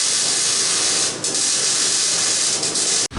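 Welding heims onto the frame of a '39 Standard car makes a steady, loud, bright hiss that runs almost unbroken for about three seconds before cutting off abruptly.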